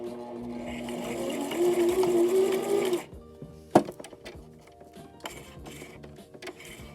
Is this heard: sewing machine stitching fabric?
yes